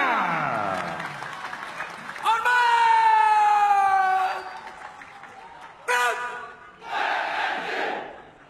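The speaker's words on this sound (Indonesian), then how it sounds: "Beri tepuk tangan yang meriah." A crowd at a military martial arts show, a pencak silat demonstration for an armed forces anniversary, bursts into applause and cheering with shouts rising over a loud, sustained din that swells again near the end.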